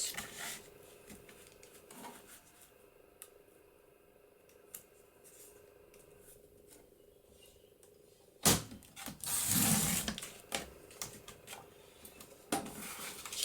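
A paper cutter trims a 6-inch page for Christmas journals, making a single brief, crisp slicing scrape after quiet handling noises, followed by faint rustling of paper.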